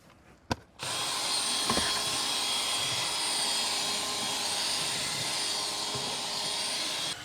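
An injector extractor machine cleans fabric car seats, its loud steady suction roar starting abruptly after a brief click and running without a break to the end, with no talking.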